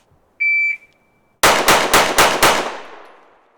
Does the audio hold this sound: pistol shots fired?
yes